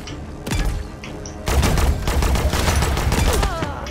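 Rapid gunfire in the hero shooter Paladins, a dense barrage of loud shots and impacts piling up during a hectic match, with a few brief booms mixed in.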